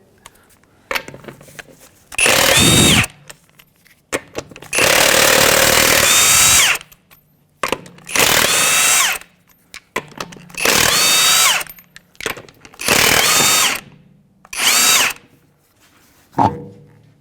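A power tool with a 22mm socket loosens the wheel on a 2011 Honda Odyssey, running in six loud whirring bursts of one to two seconds each, separated by short quiet gaps and faint clicks.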